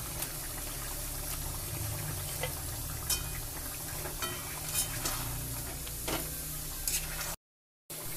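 A Bengali curry of flat beans and tilapia fish bubbles in a pan, giving a soft continuous simmer with faint pops and crackles and no talk.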